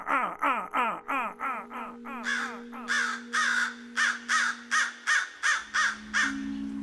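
A human voice imitates a crow's scold call with a rapid series of about fifteen harsh, rasping caws. They start quick and clipped, then grow longer and more drawn out. The voice is close and loud.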